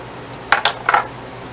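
Sliced onions and cucumbers being tossed together in a bowl for bread and butter pickles, giving a few light, close clinks of utensil against the dish, then quiet.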